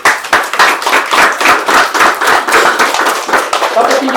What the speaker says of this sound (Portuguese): Vamos aplaudir a Senhor.